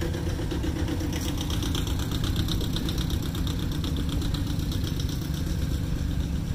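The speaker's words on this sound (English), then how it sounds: "G1000 Wheatland diesel, front wheel assist." Minneapolis Moline G1000 Wheatland diesel tractor with front wheel assist, engine running at a steady idle with a rough, knocking low rumble and constant vibration, close and continuous at a vintage tractor show.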